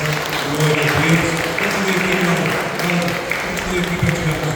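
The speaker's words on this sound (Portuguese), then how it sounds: "a igreja dá uma salva de palmas, glória a Deus" Church congregation at a Pentecostal installation service giving a round of applause, dense sustained clapping filling the room, with voices audible underneath the applause.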